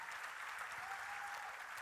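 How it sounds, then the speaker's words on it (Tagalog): A church congregation claps in praise to God during a service, a faint, steady patter of applause that sounds distant and continues evenly for under two seconds. "ibigay muna natin ang palakpak papuri sa Diyos lahat"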